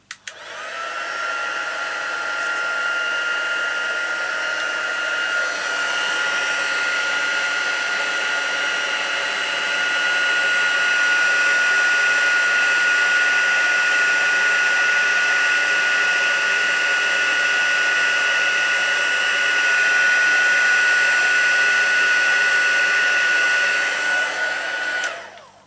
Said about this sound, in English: Now I'm going to put my heater on, my heat gun for a minute.